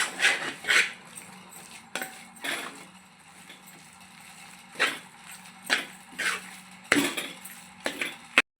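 Rava laddu mixture stirred in a pan on the stove: a spoon or spatula scrapes and knocks against the metal at irregular intervals, close by, with quieter stretches of low hum between the clatters and no talking.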